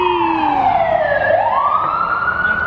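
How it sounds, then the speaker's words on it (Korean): A loud emergency vehicle siren wails nearby in Los Angeles, sweeping down in pitch and then rising again, with no voices. "사이렌 소리"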